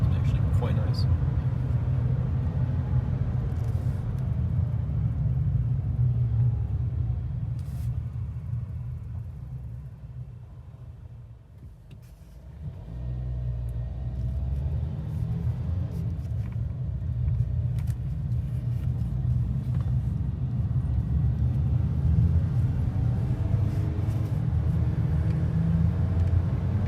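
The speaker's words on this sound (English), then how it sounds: "I'm just going to show you kind of how it holds the gears when you go to slow down" A 2022 Ford Maverick pickup, towing, rumbles steadily from inside the cab as it slows with the transmission holding gears; the drone dips briefly and then builds back up, with a voice talking over it.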